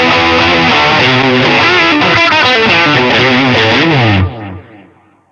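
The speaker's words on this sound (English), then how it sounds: "Let's put some distortion on there." Heavily distorted electric guitar chords from a Line 6 Variax modeling guitar ring out loud and saturated, then fade away over the final second.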